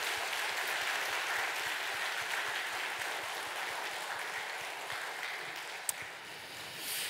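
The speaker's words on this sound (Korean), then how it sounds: "힘차게 감동의 박수." Sustained applause from a church congregation at a Sunday worship service fills the room, steady and fairly even throughout, thinning slightly toward the end with one sharp clap standing out.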